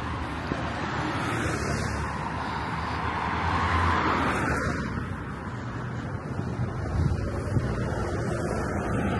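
City bus rumbling past on a street near Army Navy Drive in Virginia, a broad, steady engine and road roar with gusty wind buffeting the microphone, swelling and fading over several seconds.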